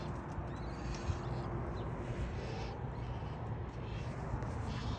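Baby Gila woodpeckers call from inside a nest in the dry Sonoran Desert of Arizona, a faint, raspy, continuous chatter heard from a short distance.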